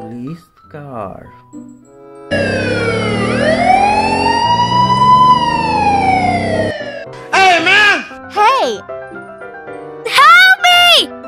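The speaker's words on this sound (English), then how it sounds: "Wow, friends, police car." A police car siren sweeps up and down in a long wail, loud and close, followed by short chirping siren bursts; a voice speaks briefly at the start.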